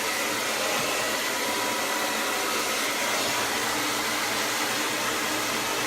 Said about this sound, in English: I'm blow drying it up and with cold air now because it's dry.